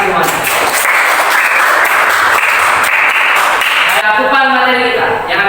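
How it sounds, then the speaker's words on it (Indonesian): Applause from a classroom audience at a teaching session, loud continuous clapping that gives way near the end to a ringing, tonal sound. "tepuk tangan semuanya"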